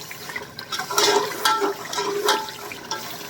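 A metal spoon scrapes and stirs frying masala in a cooking pot while fish is prepared, giving a few distinct scraping strokes over a soft, steady sizzle.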